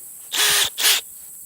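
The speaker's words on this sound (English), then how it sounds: "that is a auger for drilling holes, setting hole sets, whatnot" An auger used for drilling holes in the ground, two short, loud bursts of high whirring power-tool noise, close by, with a brief pause between them.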